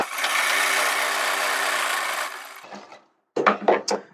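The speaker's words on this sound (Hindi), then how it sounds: "यहाँ पर भी हम एक पैर का मार्जिन लेकर सिलाई लगा लेते हैं" Sewing machine stitching a seam on baby pajamas, running steadily and loudly for about two seconds before winding down, then a few short bursts of stitching close up.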